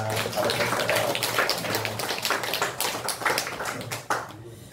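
A church congregation at a Korean Sunday service claps in welcome, a dense patter of many hands that thins into scattered claps and stops near the end.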